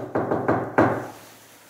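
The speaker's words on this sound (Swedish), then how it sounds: "Du kan knacka. Så här till exempel." Several firm knocks from a hand rapping during an investigation at Sätra Brunn: a close cluster of hollow thuds, the last one loudest, then a fading ring.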